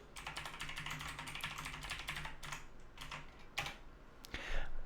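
Someone types an admin password on a computer keyboard, a fast close run of light key clicks followed by a few heavier single taps, fairly quiet with no voices.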